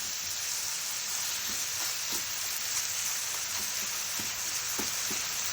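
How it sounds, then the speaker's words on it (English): Potatoes frying in a pan until brown and crispy, a steady close sizzle with occasional faint stirring taps, no talking. "So we're just gonna let these cook, get nice and brown and crispy"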